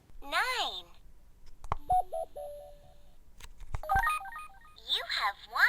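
A circuit-bent Fisher-Price toy cellphone emits warbling electronic tones, stepped beeps and glitchy melodic blips in bursts across several seconds, close and fairly loud, with button clicks between them.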